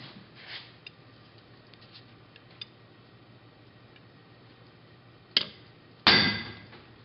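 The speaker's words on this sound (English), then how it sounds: "Nice firm square hits with the small sledgehammer." A small sledgehammer strikes number stamps into a metal frame part in a shop, giving two sharp metallic hits near the end after quiet ticking and faint taps.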